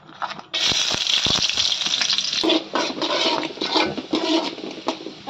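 Garlic hits hot oil with a sudden hissing rush, then keeps frying in a loud, uneven sizzle and spatter that swells and dips as it is stirred.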